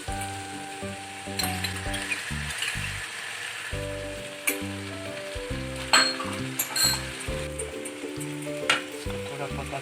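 Yogurt goes into a sizzling pan of jackfruit and chickpea biryani masala, with steady frying hiss, stirring and occasional clinks beneath continuous tonal background music.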